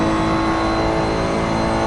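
A Ferrari 488 GT3 engine in the Assetto Corsa racing game holds a steady, loud, buzzing high-rev drone, unbroken for a couple of seconds with no talking.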